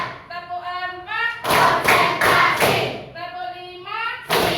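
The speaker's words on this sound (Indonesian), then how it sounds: "Coba tepuk satu, tepuk dua, tepuk tiga, tepuk empat" A classroom of students claps hands in a counted rhythm, with sharp, loud clusters of claps breaking in between a teacher's spoken counts.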